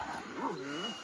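A strong dog brought from Russia gives a short, close whining yelp with a rising and falling pitch, lasting about a second, over a faint background hiss.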